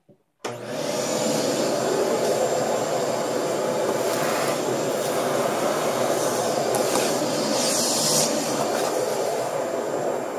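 A shop vac cleans fly ash out of a rocket mass heater, switching on after a brief moment into a loud, steady whooshing roar that holds constant to the end.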